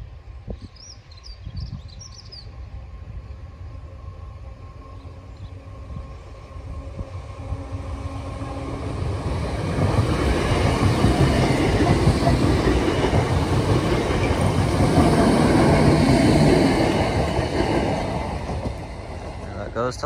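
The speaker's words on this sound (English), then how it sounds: "Next train is not far behind this one." A train rumbles past on the rails at Cleghorn level crossing, growing from a distant hum to a loud, clattering roar before easing off slightly at the end.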